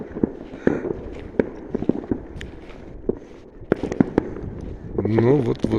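Fireworks bursting over Issyk for New Year, sharp bangs and crackles popping at irregular intervals from a distance, with voices and a brief melodic sound near the end.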